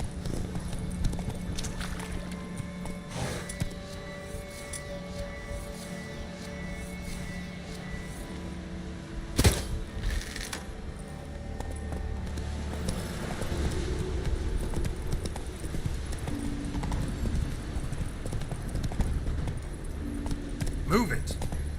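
Horse hooves clop in The Witcher 3, a rhythmic clip-clop over steady game ambience with a sharp impact around the middle, while a voice speaks briefly.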